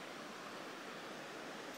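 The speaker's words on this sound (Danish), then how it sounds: "Der er et lille vandfald derovre, man kan høre det." A small waterfall in a canyon, heard from a distance as a steady, even rush of falling water that holds constant throughout, with no voices over it.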